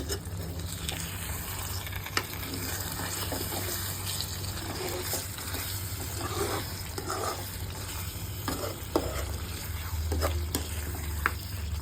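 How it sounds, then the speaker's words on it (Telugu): Green chicken curry bubbling in oil as it is stirred, giving a continuous dense sizzle with scattered clicks and scrapes of the spoon against the pot, close by and steady throughout. "గ్రీన్ చికెన్ ఆయిల్ పైకి తేలింది. కొంచెం ఒక్కసారి కలుపుకుందాం."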